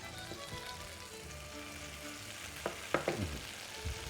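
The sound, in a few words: mushrooms frying in a pan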